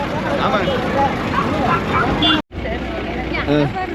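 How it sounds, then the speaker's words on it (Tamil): A special festival bus rolls through heavy traffic at the Anthiyur Gurunathaswamy temple chariot festival in Tamil Nadu, its engine rumble blending into steady crowd babble and road noise, with a brief dropout midway and voices talking throughout. "சிறப்பு பேருந்து"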